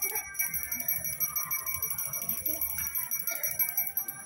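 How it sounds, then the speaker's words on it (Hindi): A small bell dipped in a bucket of water rings in quick, repeated strikes with a bright metallic tone, fairly faint, with some background voices. "जब हम बाल्टी के पानी में इस घंटी को डुबाकर और बजा रहे हैं"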